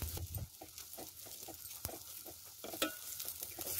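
Ground rice being stirred and roasted in a pan over a medium flame, giving a soft continuous scraping and rustling with repeated spoon strokes and a faint sizzle, close and steady, no voices.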